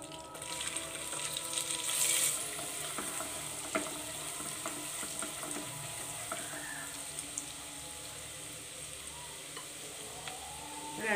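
Cardamom, cinnamon and cloves drop into melted butter for butter chicken and sizzle in a low, steady hiss, with a few light clinks of stirring and no talk.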